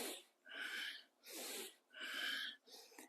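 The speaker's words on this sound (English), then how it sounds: "it's said to breathe in and out through the nostrils pretty much all the time. So this is a form of yogic breathing." Yogic breathing in and out through the nostrils, with four forceful, airy breaths in a steady rhythm, each with a short quiet gap between them, close and alone.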